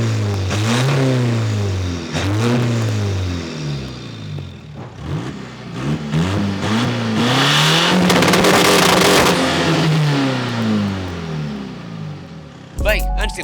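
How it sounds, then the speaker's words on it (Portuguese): Two 400 HP Pumpe-Düse diesel engines, a VW Golf 2 and a Seat Ibiza, revved repeatedly at a race event, loud rising and falling revs in successive surges, with crowd noise and voices around them. "vamos então aqui fazer um soundcheck a estas duas máquinas"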